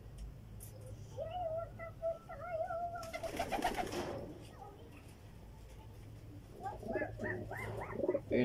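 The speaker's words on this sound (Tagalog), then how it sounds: "Ayun na mga kalapati" Racing pigeons coo softly in low, repeated warbling calls, with a burst of wing flutter midway and some quiet background talk, at a pigeon race in La Union, Philippines.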